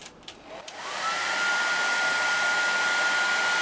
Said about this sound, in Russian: После сборки необходимо проверить фен, как он работает